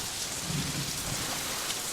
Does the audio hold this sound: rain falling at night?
yes